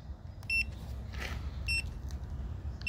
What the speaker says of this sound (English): 10 beeps. And when it gets to the last beep, it'll give you a continuous beep